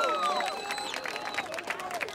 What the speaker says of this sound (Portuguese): Palmas nessa batalha, família.